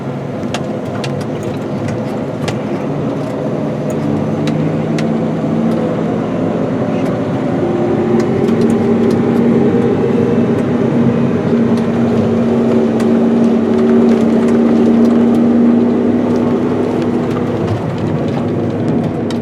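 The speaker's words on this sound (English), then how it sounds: "The Claas Xerion 5000 is a very tight turning tractor." A Claas Xerion 5000 4wd rigid-frame tractor hums steadily during a cab ride along while pulling a grain cart at harvest, its engine note droning and slowly rising in pitch.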